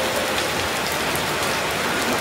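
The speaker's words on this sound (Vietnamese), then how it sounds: "Mưa quá trời mưa luôn." Heavy rain falls in a loud, unbroken roar of dense hiss, close by and with no voices over it.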